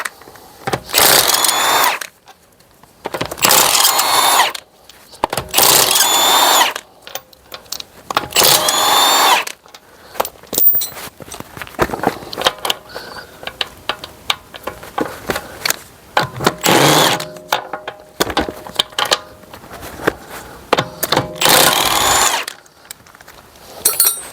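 A power tool takes the wheel off a 2017 Mercedes E220 for a rear brake disc and pad change, whirring loudly and close in repeated bursts of one to two seconds with short pauses between them. A softer run of rattling mechanical noise fills the middle.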